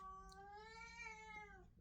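A cat meows once in a long, steady, wavering tone with little change in pitch. It sounds close but fairly soft, and there is a faint background hum.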